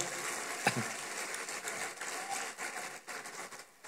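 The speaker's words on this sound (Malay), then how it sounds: "Beri tepukan pada mereka semua, tuan-tuan dan puan." Faint, fairly distant audience applause at a closing ceremony for Malaysia's National Technical Profession Day 2025: a soft, rain-like patter of many hands with one sharper clap early on, holding steady for about four seconds.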